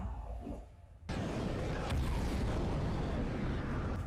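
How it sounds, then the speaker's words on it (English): A flamethrower cannon fires in a film scene, bursting into a loud, sustained roaring whoosh of flame that holds steady for several seconds after a brief quieter lead-in. "That's a flamethrower cannon."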